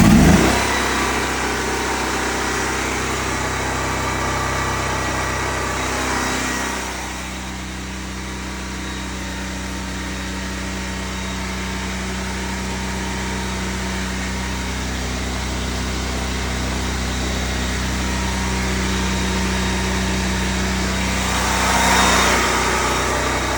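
An American Jetter sewer jetter unit runs steadily during a no-nozzle flow test at zero pressure resistance, a continuous engine-like drone that holds for the whole stretch, dipping slightly in level midway and swelling briefly near the end, with no talk.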